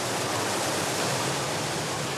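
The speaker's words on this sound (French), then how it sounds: "glisser sur cette vague artificielle, créée par l'irrégularité du lit de la rivière" Artificial standing wave formed by the uneven riverbed of a Bavarian river, giving a continuous, dense rushing roar of churning water, loud and steady throughout with no voices.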